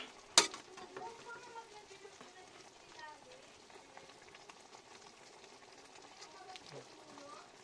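Kamansi vegetable stew bubbles in a pot over the fire, a steady boiling simmer with sizzling and popping and one sharp knock near the start.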